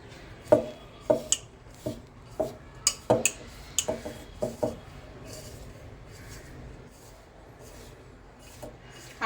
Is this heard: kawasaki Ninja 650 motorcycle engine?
no